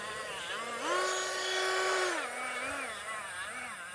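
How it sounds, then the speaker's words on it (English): Small Dremel-style rotary tool grinding on a nitro RC car clutch, a thin high-pitched motor whine that rises as it bogs under load, then drops and wavers, moderately close. "this is not probably the choice of Dremel to use"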